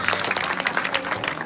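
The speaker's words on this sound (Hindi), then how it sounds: "एक बार जोरदार ताली बजाइए।" An audience at a Chhattisgarhi comedy Ramayana stage show claps loudly, with brisk, crisp individual claps merging into lively, sustained applause.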